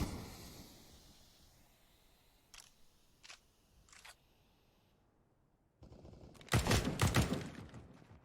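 Counter-Strike match on Dust 2 with sharp gunshots: three separated single shots early, then a loud dense burst of rapid automatic fire near the end over low background game noise.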